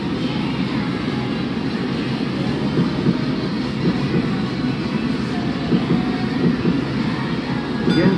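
Train rolling out in the Densha de Go! Yamanote Line game, a steady low rumble of wheels and traction motor that holds evenly throughout with no voices.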